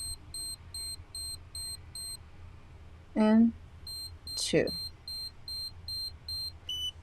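A Medicube Ussera Deep Shot skincare device emits rapid, evenly spaced high-pitched beeps in two runs, close and clear, while someone briefly speaks between them.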